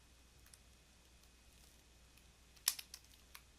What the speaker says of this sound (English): I'm just nudging this with the keyboard